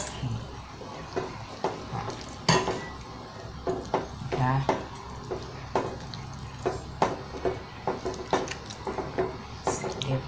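Glass noodles go into a home-style Thai clear soup with pickled mustard greens, making small wet splashes, drips and soft squishes scattered across the clip, with a voice talking quietly in the background.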